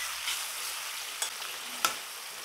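Fried snakehead fish pieces go into a lightly fried spice paste of salt and turmeric with a little water for curry, producing a steady hissing sizzle broken by two brief clinks.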